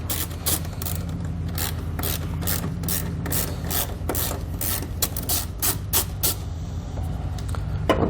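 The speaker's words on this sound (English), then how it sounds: "we need to go ahead and remove this nut here using our 13mm socket" A 13mm socket ratchet loosens a battery terminal nut on a 2020 Chevrolet, giving a close, loud run of rapid clicking pawl strokes in repeated bursts over a constant low hum.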